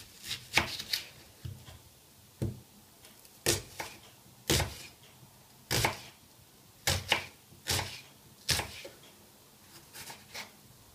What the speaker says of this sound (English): First we will chop onion on small pieces